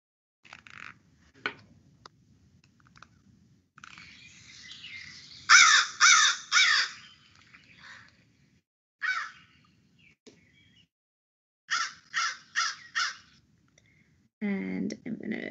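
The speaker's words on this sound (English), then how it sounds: "So this here is a crow." A crow cawing in a recording played back, harsh repeated caws in short groups of three or four, loud and close, separated by quiet gaps with faint clicks and a brief voice at the end.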